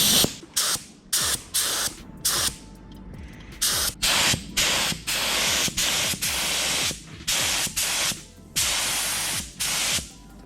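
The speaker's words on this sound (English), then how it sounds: "So I'm gonna be using this MP282 high build 2K primer." Repeated bursts of spray gun hiss lay MP282 high build 2K primer onto a repaired Evo X car part, each pass a loud steady rush broken by short pauses, with no talking.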